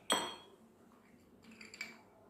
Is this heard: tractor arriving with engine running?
no